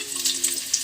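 Ingredients sizzle in a frying pan while cooking adobo sa gata with fish and eel, a steady close crackling hiss with small pops and no voices.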